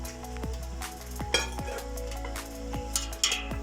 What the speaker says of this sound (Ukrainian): Зараз протягом декількох хвилин я перемішую